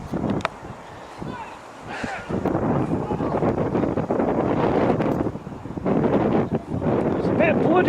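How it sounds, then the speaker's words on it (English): Gusty wind buffets the microphone at a model aircraft flying field by a nature reserve, rumbling loudly and continuously with surges that swell and ease. "It's a bit bloody windy."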